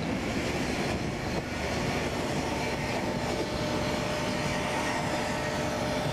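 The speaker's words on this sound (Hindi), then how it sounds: "जा रही है ट्रेन" Rajdhani Express hauled by a WDP4D diesel locomotive in Indian Train Simulator, a steady broadband rumble of engine and rolling wagons running continuously without pause.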